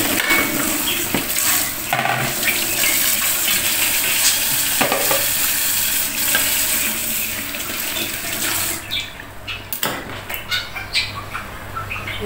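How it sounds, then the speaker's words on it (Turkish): Food fries in hot oil in a home kitchen, a loud broadband sizzle and crackle running continuously with occasional clatter and stirring bursts, with no speech. "yağ ısınmış bir yandan kızartayım ben"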